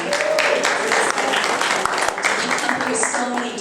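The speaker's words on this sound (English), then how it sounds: "Just another round of applause for this poetess." Audience applause for a poetess at a holiday poetry concert, a steady dense patter of clapping running throughout with some crowd voices mixed in.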